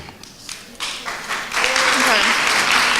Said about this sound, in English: Maya, they're clapping for you, Maya.